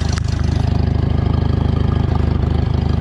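A Farmall M tractor engine idles close by with a rotted-out muffler, a loud, steady, rapid low thumping pulse that runs evenly throughout with no voices.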